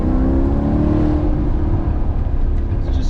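A Maserati GranTurismo engine roars loud and close, a rich rumbling tone with rising harmonics as it revs for three seconds, no talking over it.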